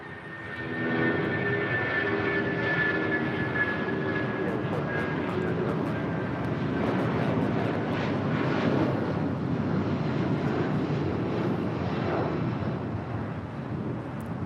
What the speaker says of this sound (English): That is United Airlines 1400 departing to Chicago O'Hare on a 757-200.